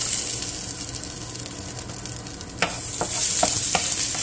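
Cooking oil hisses steadily in a pan for shrimp and vegetable fried rice, a broad continuous sizzle with a few sharp crackles and scrapes near the end, no voices.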